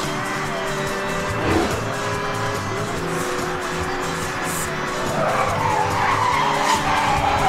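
Tires skid and squeal on a sports car in the racing game Need for Speed Hot Pursuit, under continuous engine roar, with a few sharper screeches rising near the middle and toward the end.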